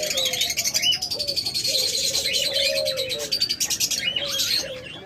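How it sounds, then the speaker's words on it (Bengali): Diamond doves call softly nearby, with repeated low cooing under a busy layer of bright chirps and tweets from other small caged birds. "চমৎকার ডায়মন্ড ঘুঘুগুলা একদম ডিম পাড়া পাত্রে বসে আছে"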